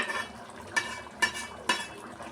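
A spoon stirs mango fish curry (mamidikaya chapala pulusu) in a pot, making three distinct scraping strokes against the metal, close and moderately loud over a quiet bubbling background.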